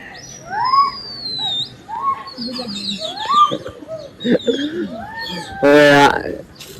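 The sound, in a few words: pigeon on a rooftop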